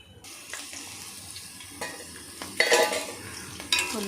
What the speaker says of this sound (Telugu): ఇదిగోండి ఇది వేగుతున్నాయిగా